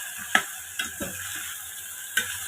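Mustard seeds sizzle in a pan with vegetables for semiya pulao, a low crackle under several sharp clinks and scrapes of a spoon stirring against the metal.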